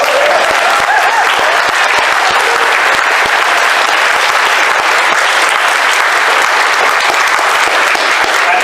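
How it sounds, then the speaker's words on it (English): An audience claps enthusiastically for several seconds, a dense, loud, sustained wash of many hands with no talking over it. "A big round of applause for Phil Mark."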